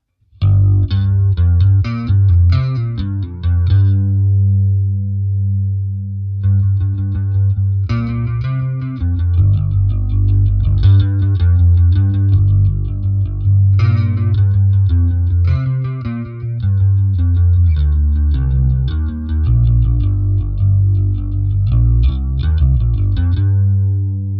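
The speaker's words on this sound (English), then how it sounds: "a range of bass tones from the Line 6 Helix" Bass guitar played through a Line 6 Helix with chorus effect, a steady run of loud, shimmering low notes and chords that carries on continuously with brief pauses between phrases.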